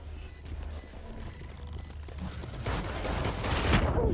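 Rapid burst of gunfire from a Valorant ultimate ability in the video game, a dense crackling volley that grows louder and fuller toward the end, with no talk over it.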